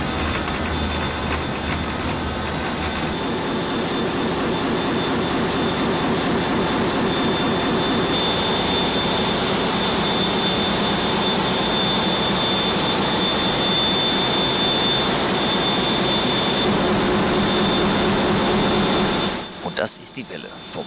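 Diesel machinery running in the engine room of the container ship MS Ingrid, a loud, steady rumble with a constant whine, ending in a brief drop near the close.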